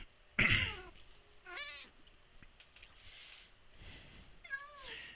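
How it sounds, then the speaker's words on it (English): A hostile cat mob in a Minecraft modpack yowls in a sharp burst, followed by several shorter wavering meows and cries spread across a few seconds over faint background noise. "there's the other cat, and it's coming, and it's pissed off!"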